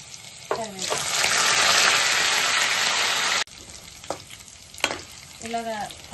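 Tempering of mustard seeds, urad and chana dal, cumin, dried red chillies and curry leaves with garlic crackles and sizzles in hot oil, a loud frying hiss that cuts off abruptly, followed by quieter stirring with speech.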